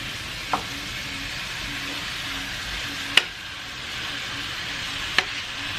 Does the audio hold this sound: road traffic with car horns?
no